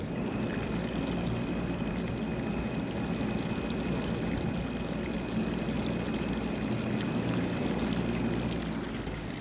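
A boat's engine idling in reverse and then given a little throttle while lateral thrusters are tested, a steady, continuous low drone with water wash that stays even and close throughout, with no speech.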